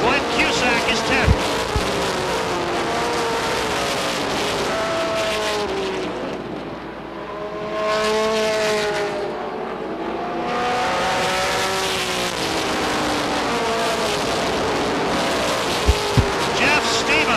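Stock cars race at Beech Ridge Motor Speedway in an ACT Coors Tour event in 1989, with a steady loud roar of engines that swells and fades as the field passes. A race announcer talks over it throughout.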